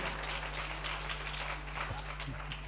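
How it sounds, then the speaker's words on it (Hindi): A crowd at a devotional music gathering in Kolkata claps in applause, a steady continuous patter of many hands throughout, moderately loud, with a steady low hum underneath. "तो एक बार सब भाई बेटियां तो तालियां बजाओ"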